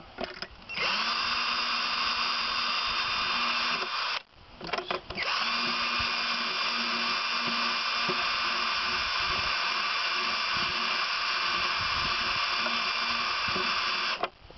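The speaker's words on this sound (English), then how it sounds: "Then put another hole where you want the other one." An electric drill bores a hole through plastic for an aquarium cave background, a loud, steady high whine that briefly stops and restarts, then runs continuously for about ten seconds.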